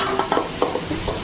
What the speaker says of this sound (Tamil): வெங்காயம் நல்லா வதங்கணும் ஃப்ரெண்ட்ஸ்.